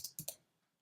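Three quick, crisp clicks of typing on a computer keyboard, close and fairly quiet, then silence.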